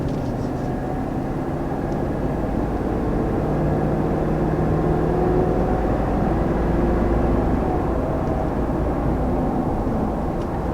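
A 2020 Lexus LX 570 engine gives a low, throaty rumble that holds steady and strong under acceleration, with a smooth drone rising slightly in pitch as it runs.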